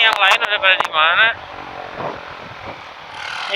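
Several motorcycles rev and pass on a night ride, their engines rising loudly in quick bursts before fading into a steady nearby idle with mixed road noise.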